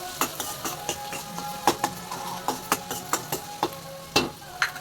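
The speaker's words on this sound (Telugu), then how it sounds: "తగినంత అల్లం వెల్లుల్లి పేస్ట్ వేసి కలుపుకుందాం." Ginger garlic paste stirred into frying onions in a pan for a homemade tomato pasta sauce, with a soft continuous sizzle punctuated by regular scraping clicks of a spoon against the pan, close and alone.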